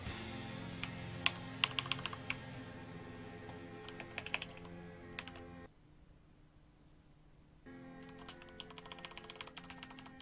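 Computer keyboard keys pressed in quick, uneven bursts of close clicks and clacks, pausing briefly in the middle before the typing resumes, with no talking.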